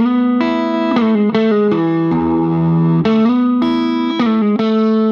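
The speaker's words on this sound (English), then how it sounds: "Let's start up on the neck pickup all by itself." A 1970 Gibson Les Paul Custom Black Beauty played on its neck pickup alone through a Fender Deluxe Reverb, ringing sustained chords and bends with warm distortion, loud and unaccompanied.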